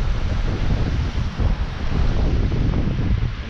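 Wind blowing steadily at a state park pond, a loud continuous broadband rush with gusty buffeting on the microphone throughout, no voices.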